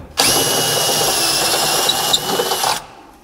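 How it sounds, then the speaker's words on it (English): A power drill bores a half-inch hole into a vehicle dashboard, a loud steady high whine lasting under three seconds, starting and stopping abruptly, with no talk. "I'm gonna get a different bit so I don't have to drill so far"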